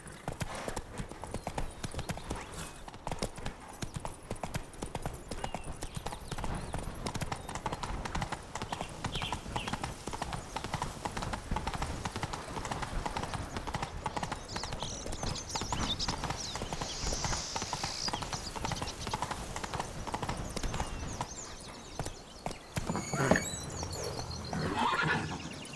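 A horse in The Witcher 3: Blood and Wine clip-clops along at a steady pace, its hoofbeats continuous and fairly quiet, with occasional whinnies, game ambience underneath, and no talk.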